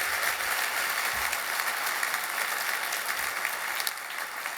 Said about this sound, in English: How about another round of applause for Audrey?